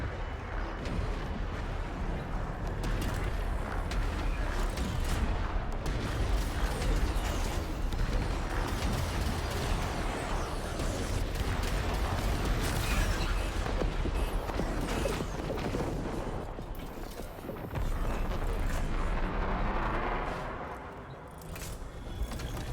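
Forward artillery pounding away in a war video game, a dense, continuous barrage of booms and crashing blasts that rumbles steadily for over twenty seconds with no talk.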